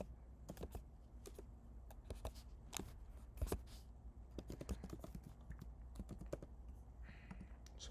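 Rapid irregular clicking of keys on a keyboard as an email address is typed, close and fairly quiet, with short pauses between bursts and no voices.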